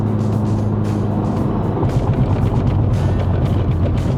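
A 2010s MK5 Volkswagen Polo GTI hatchback on a test drive drops a gear, and the engine hum rises to a steady, close, droning rev heard from inside the cabin with no talking.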